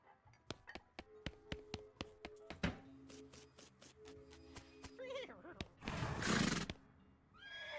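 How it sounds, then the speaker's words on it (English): In the video game West of Loathing, a horse gives a whinnying neigh after a run of sharp clicking taps, followed by a burst of louder rustling noise. "It's a new horse, Sekira."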